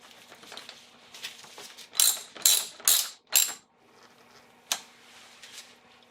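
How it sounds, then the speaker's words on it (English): A ratchet tightens a 10 millimeter bolt on the air filter housing of a 1992 Acura Legend, giving four loud, close bursts of clicking, then one short click, over quiet shop background. "we'll put our 10 millimeter bolt in right over here. And then just tighten that down."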